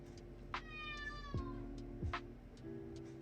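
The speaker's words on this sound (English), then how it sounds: "We have a noisy cat here." A noisy, demanding house cat named Bumpy meows several times indoors, with drawn-out, pitch-sliding cries standing alone against a steady low hum.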